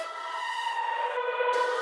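A synth melody made in Vital, reversed and doubled in speed, gives a short, wavering, siren-like tone that swells and bends over under two seconds, fairly quiet and alone.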